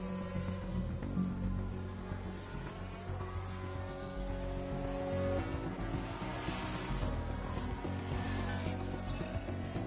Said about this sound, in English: Mercedes engine sounds a little different too.